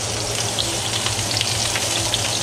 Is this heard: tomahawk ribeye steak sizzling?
yes